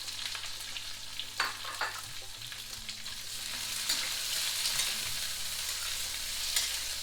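Onions sweating in a pan for a cottage cheese kofta curry, a steady low sizzle that grows slightly louder midway, with a few spatula knocks and stirring scrapes close by.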